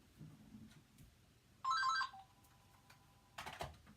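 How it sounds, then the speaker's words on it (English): A home telephone rings at night, two short bursts of bright trilling electronic ringing separated by quiet, fairly faint and not covered by speech. "my home phone is always ringing in the middle of lives"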